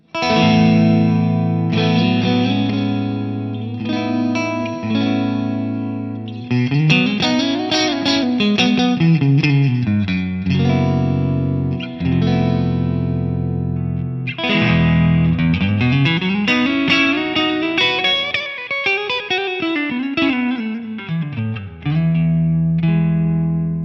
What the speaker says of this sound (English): the Deputy has some fantastic clean sounds if you explore the lower end of the gain range